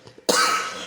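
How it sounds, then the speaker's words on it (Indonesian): A single sharp cough bursts out after a brief quiet moment, loud and close, with a breathy tail that fades out. "Maaf batuk, ya."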